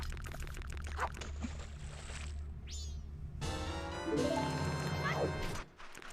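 Water splashes and pours in Majora's Mask, a game scene of hot spring water: soft crashing and splashing bursts over a busy layer of game sound and music, ending in a brief drop to quiet.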